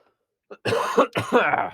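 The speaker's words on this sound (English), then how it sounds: "I'm gonna cough." A single short cough close to the mic, followed by a couple of throaty hacks and throat clearing.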